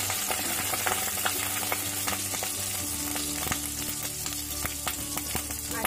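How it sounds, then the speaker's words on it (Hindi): Whole cumin seeds and grated ginger frying in hot oil for gatte sabzi: a dense, continuous sizzle and crackle with scattered pops and faint stirring clicks, close and fairly loud, no voices. "तेल गर्म हो गया है। इसमें आधा छोटा चम्मच साबुत जीरा डालेंगे, एक चम्मच घिसा हुआ अदरक"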